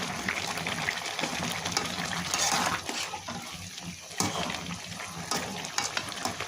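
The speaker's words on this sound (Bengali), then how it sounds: "পানিটা ফুটে উঠতেছে" Water bubbles and churns in a pot, a close, fairly soft rolling gurgle with occasional louder splashy bursts.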